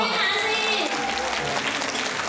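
Dense applause from wedding guests rises at once and carries steadily throughout, a continuous wash of many hands clapping.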